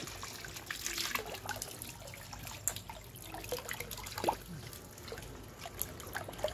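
Fresh water overflows and trickles steadily in a backyard in the provinces, a soft, close, continuous dribble with scattered small drips and splashes and no talking.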